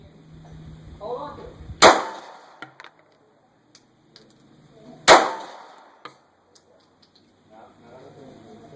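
Two loud, sharp handgun shots fired roughly three seconds apart during a shooting drill, each with a short ringing decay, with faint clicks and brief talk around them.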